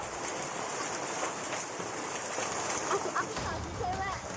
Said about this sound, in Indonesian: Hujan es sebesar biji jagung terjadi cukup deras di Desa Tista, Kecamatan Busungbiu, Kabupaten Buleleng, Bali selama lebih dari setengah jam